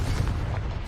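A single dull, booming blast from the Confringo fire spell in the video game Hogwarts Legacy, close and heavy, fading within a second.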